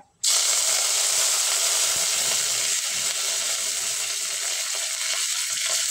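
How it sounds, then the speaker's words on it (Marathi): Hot oil suddenly bursts into a loud, steady sizzle, with cumin and mustard seeds crackling and popping through the continuous hiss, close up. "आता यात तेलात जिरे मोहरीची फोडणी चांगली तडतडत आहे"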